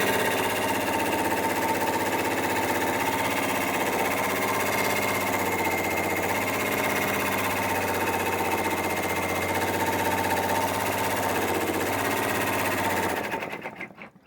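An embroidery machine runs a steady, loud, humming stitch cycle for a double tack-down on an appliqué hooded towel, with no talk over it, and then stops abruptly at the end.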